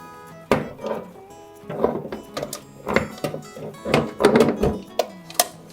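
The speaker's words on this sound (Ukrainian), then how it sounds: "Ставимо чашу в хлібопічку." Hard plastic and metal knocks and clunks as a bread pan holding wheat dough and dry yeast is set and locked into a bread machine, several separate close thuds and rattles over about six seconds.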